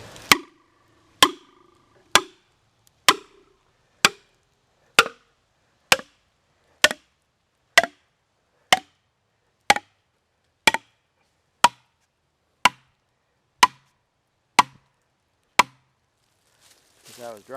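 A felling wedge is driven into a tree cut with about seventeen sharp, evenly spaced strikes, roughly one per second, loud and close, with no talk.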